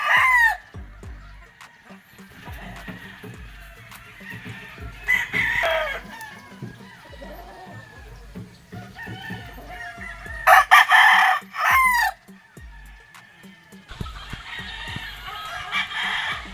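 A White Kelso gamecock crows several times, loud and close, with stretches of quieter clucking and farmyard noise between the calls.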